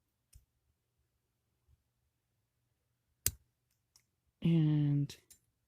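Scissors cut paper for a snowflake craft, with a few sparse, sharp snips spaced seconds apart and one brief spoken word between them.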